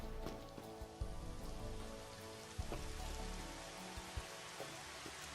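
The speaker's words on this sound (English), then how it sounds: "I'm actually gonna make it rain real quick because the rain in this game just looks so beautiful." Rain falls in the Final Fantasy XV Platinum Demo game as a faint, steady patter and hiss, with a few sharper drop taps over a soft tonal background.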